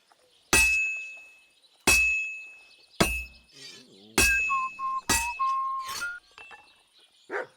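A sword is hammered on an anvil at a forge in the Kingdom Come Deliverance 2 video game: five sharp, loud metallic strikes spaced about a second apart, each leaving a bright ringing tone, followed by quieter clinks.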